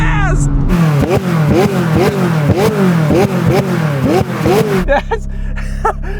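McLaren 600LT supercar accelerating hard, its engine rising in repeated quick climbs through the gears, loud and close, each shift cutting briefly before the pitch sweeps up again, then dropping away to a lower steady drone at the end.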